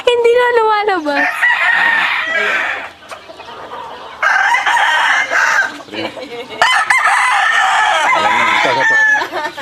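Fighting cocks in Tarlac crow and cluck loudly at close range, with a long crow opening and more crowing bursts recurring through the stretch, interspersed with clucks and brief quieter gaps; people can be heard talking faintly underneath.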